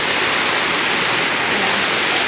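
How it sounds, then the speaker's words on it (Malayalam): Heavy rain with wind, a dense, loud, steady roaring hiss of downpour with no gaps and no voices. "കാറ്റും മഴയാട്ടാ ഇതുണ്ടോ"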